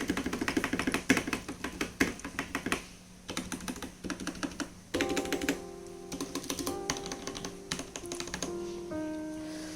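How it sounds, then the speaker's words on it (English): Rapid typing on a Velocifire TKL02 mechanical keyboard with clacky keystrokes and rattly stabilizer hits, close and fairly loud, pausing briefly between bursts. "one thing that really stands out are the stabilizers. Just listen to this."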